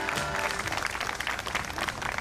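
Audience applause fills a union rally hall in honor of the union chairman's fighting speech on merging power-generation public enterprises. Dense, steady clapping stays loud and continuous throughout, with no talk over it.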